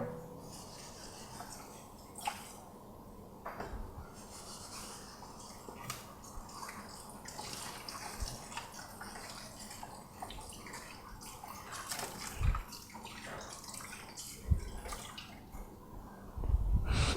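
Tap water runs and splashes while a measuring cup is rinsed in a kitchen sink, a steady faint wash with occasional knocks and drips.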